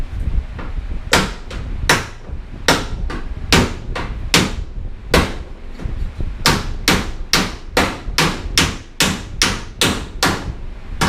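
Metal hammer and dolly blows ring sharply against a dented Karmann Ghia steel body panel, a steady run of close, loud, evenly spaced hits with brief pauses between groups.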